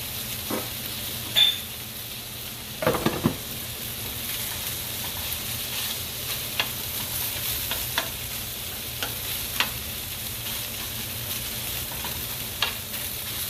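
Turkey sausages frying in a pan, giving a steady close sizzle with occasional sharper pops and a brief scrape of stirring, heard alone without talk.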